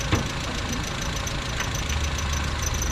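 A car engine idles steadily nearby with a low, rumbling drone and slight knocking texture, no voices.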